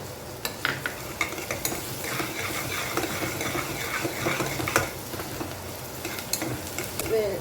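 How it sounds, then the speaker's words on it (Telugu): Ginger garlic paste fries with reddened onions for a mushroom mixed vegetable kurma, a moderate sizzle punctuated by repeated spoon scrapes and clinks against the pan. "ఆనియన్ ఎర్రగా వేగాక కొంచెము అల్లం వెల్లుల్లిపాయ పేస్ట్ వేయించేసుకోవాలి"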